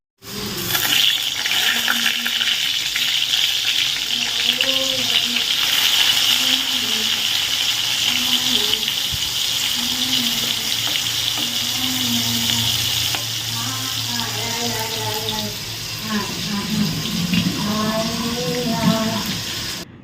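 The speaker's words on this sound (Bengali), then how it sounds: "পটল ভাজাটাও হয়ে গেছে সাথে আমি চিচিঙ্গাটাকেও ভেজে তুলে রাখলাম" Pointed gourd and snake gourd slices fry in hot oil with a steady, dense sizzle that runs the whole time, while someone talks over it.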